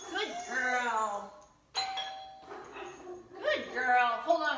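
A household doorbell sounds during a dog training session, a single clear electronic chime held for about half a second amid a person talking before and after it.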